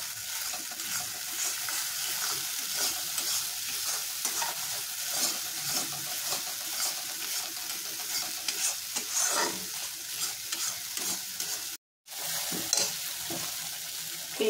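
A paste of onion, cashew and raisin fries in hot oil for a chicken tikka masala, giving a steady close sizzle with occasional stirring scrapes and a brief cut near the end.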